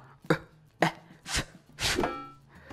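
Four knife chops on a cutting board in a home kitchen, spaced irregularly, the last two heavier and longer as if dragging through the food, close and fairly loud with no talking.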